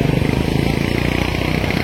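A motorcycle engine idles with a steady low pulsing putter while running through floodwater in Solapur, Maharashtra, its exhaust submerged, before cutting out; close and continuous, with faint voices behind.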